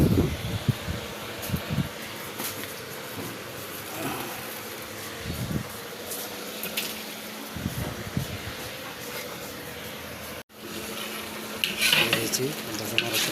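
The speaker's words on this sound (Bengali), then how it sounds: "আরও অনেকক্ষণ ধরে মশলাটা ভুনা করতে হবে" Masala frying and being stirred in a pan for chicken jhal fry, a soft continuous sizzle broken by irregular scraping strokes of the spoon, close and moderately quiet, with a brief dropout near the end.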